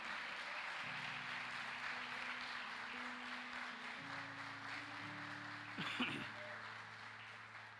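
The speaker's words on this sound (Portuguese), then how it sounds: "aplauda Ele com intensidade, dando glórias a Ele nesta noite" A church congregation at a Sunday evening service claps in steady, fairly distant applause over sustained keyboard chords, with a brief louder burst near the end.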